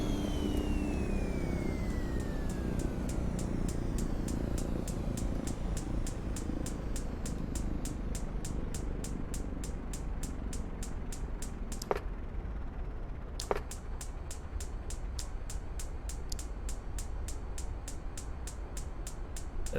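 Beechcraft King Air 350 turboprop in X-Plane 11 with its ignition running: a steady, rapid ticking of ignition sparks over a constant engine roar, pausing briefly twice, with a falling whine at the start.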